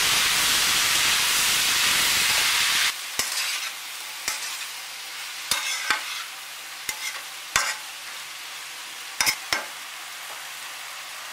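Mixed vegetables with tomato, methi, turmeric and salt sizzle loudly in a pan at first. The sizzle then drops away, leaving a quieter hiss broken by sharp, irregular scrapes and knocks of a spoon stirring.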